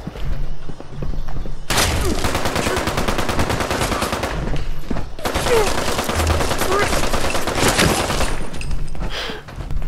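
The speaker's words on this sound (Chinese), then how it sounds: "我刚刚就觉得那个枪声就很奇怪" Bursts of gunfire from the video game Fallout 76, dense rapid machine-gun-style volleys in two long stretches separated by a brief lull, loud and close.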